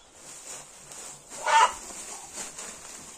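A hen with an injured back on a farm gives one short, sharp cluck near the middle, over a faint, steady background.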